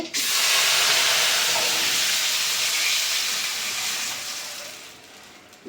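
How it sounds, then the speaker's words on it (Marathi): A loud, steady sizzle bursts up as a cumin tempering hits the pot of shengule, a broad hissing roar that holds for several seconds and slowly fades. "आता ही फोडणी घालते मी"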